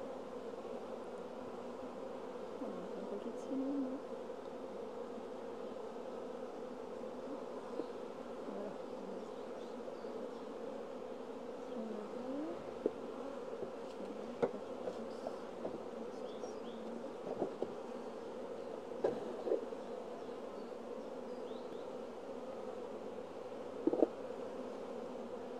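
Dense, steady hum of many honeybees buzzing as hive frames are shaken over a mini hive box during artificial swarm making, continuous and fairly close with brief rises and scattered clicks, no talk.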